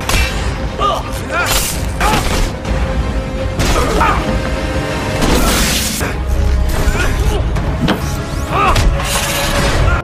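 Fight scene from the 2013 film Elysium, with dense, loud crashes, thuds and impacts in rapid succession over a busy mechanical din. A voice talks over the action.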